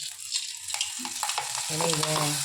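Jalebi batter frying in hot oil, a steady soft sizzle and crackle with occasional stirring clinks and faint background voices, heard at moderate distance.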